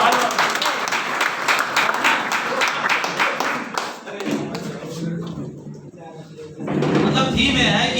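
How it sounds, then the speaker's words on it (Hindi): A seminar audience at a network marketing success talk claps loudly and steadily for several seconds, the applause thinning briefly before a burst of crowd noise and voices swells again. "तालियां बजाओ सर के लिए"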